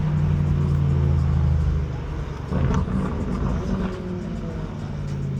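A BMW M850i on a back road gives a deep engine rumble that eases off after a couple of seconds, then carries on as a lower steady drone, heard from inside the car.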